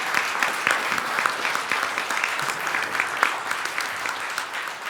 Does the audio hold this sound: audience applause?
yes